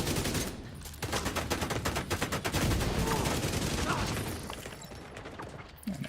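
Automated turret in The Division firing rapid bursts in a dense, continuous rattle of gunfire, loud and close, with the fire tapering off and thinning toward the end.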